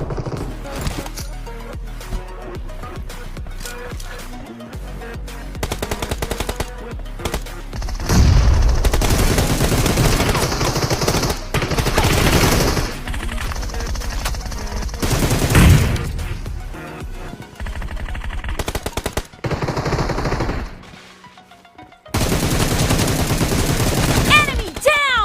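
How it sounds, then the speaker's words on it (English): Gunfire in the BGMI mobile battle game, played on a Samsung S23 phone: dense, nearly continuous volleys of automatic fire and booms running for about 25 seconds, with occasional voice lines mixed in. "Enemy down! Cover me! Nice shot! Reloading!"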